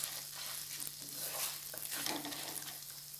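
Lentil dumplings (bori) fry in hot oil, giving a continuous soft, crackling sizzle that holds fairly even throughout, moderately quiet and close, with no talking.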